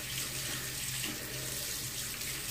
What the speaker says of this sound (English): And I'll get to wash my fingers off.